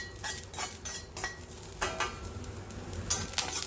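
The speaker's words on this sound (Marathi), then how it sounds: "मी हा कांदा या तेलामध्ये भाजून घेणार आहे पूर्ण पॅनमध्ये" Onion roasting in oil in an iron pan, with scraping and stirring clinks of a utensil against the metal over a steady low sizzle, the strokes coming irregularly and fairly close.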